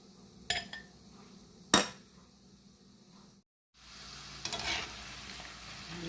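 Food sizzles softly in a pan, broken by a couple of sharp clanks of a utensil against the pan and some stirring.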